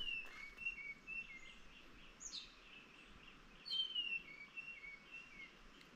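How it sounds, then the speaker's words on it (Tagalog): Birds singing in a forest in Mindoro, faint whistled chirps and short phrases repeating over a soft steady background hiss, somewhat distant. "Parang umaawit ang mga ibon at parang may sinasabi"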